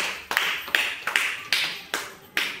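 Children in a classroom break into short bursts of applause, six brief rounds of clapping spaced about half a second apart, close and fairly loud, with no talking over them.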